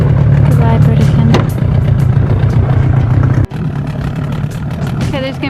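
An idling sailboat outboard engine runs too high, a steady low chugging drone that stays loud and close, briefly cut off once before resuming.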